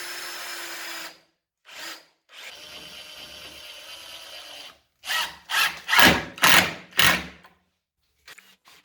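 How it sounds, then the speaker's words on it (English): A power drill countersinks and drives screws to fix a metal T-track onto a wooden dovetail jig, starting with a longer whirring run and ending with several short rhythmic bursts, close and loud. "Then it's time to countersink the T-track and screw it in place."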